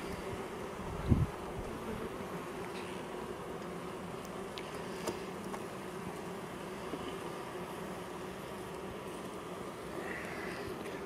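Honeybees buzzing around opened beehives during a hive inspection, a continuous low droning hum of many bees close by with a brief louder thump early on and no talk.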